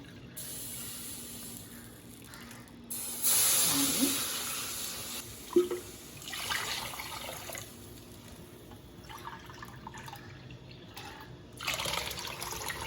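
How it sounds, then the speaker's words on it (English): Water splashes and pours into a cooking pan in a few bursts, loudest early on, then trickles quietly before a final short pour near the end. "Now, let us add the water."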